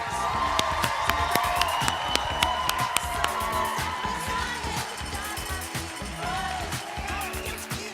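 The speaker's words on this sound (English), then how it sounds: "Let's have one more round of applause as they exit the stage to give them some encouragement." Audience at a Dancing With The Stars For Hope charity dance event applauds and cheers as the teams exit the stage, a steady dense wash of clapping with whoops and shouts throughout, fairly close and sustained.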